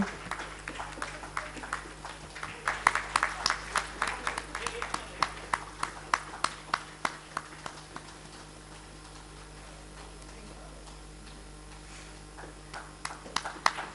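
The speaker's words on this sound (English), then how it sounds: "May we please have a round of applause for these people behind this prestigious ceremony." At a national seminar ceremony, scattered claps ring out for the organizers, sharp and fairly close, bunched in the first half and thinning to occasional strikes over a quiet hum of the hall.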